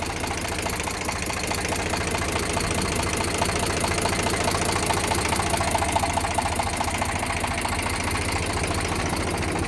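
A used tractor's diesel engine runs steadily at idle, a continuous close mechanical chug with a knocking rhythm and vibration that holds even throughout, with no talking.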